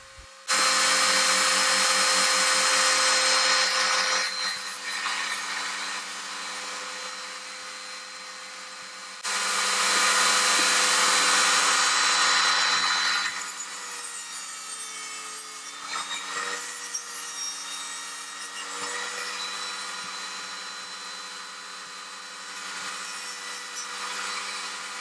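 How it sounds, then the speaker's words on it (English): Hacksaw or abrasive cutting through the end of a steel drill bit, a continuous loud grinding rasp with bursts of stronger cutting around the start and middle, steady and alone with no talk. "So I'm just cutting a small piece off to use on a micrometer lock."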